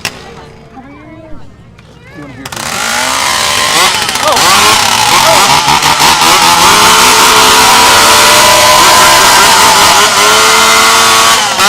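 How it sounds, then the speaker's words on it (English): At the Alaska State Fair, a voice speaks briefly before modified stock car engines fire up loudly, settling into a roaring, revving drone that rises and holds close by for the rest of the clip. "Gentlemen, start your engine."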